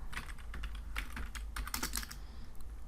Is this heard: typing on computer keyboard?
yes